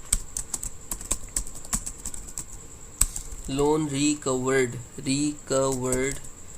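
Computer keyboard typing into spreadsheet cells, a steady run of light clicks that carries on alone, then continues under a voice speaking.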